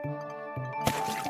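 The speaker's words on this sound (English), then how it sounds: "the ant lost his balance and fell into the river water" A cartoon ant falls into river water with a single short splash that lands over soft background music tones. Gentle watery trickles follow the splash.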